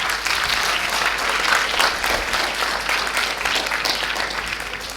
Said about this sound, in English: So give a round of applause for the school as well.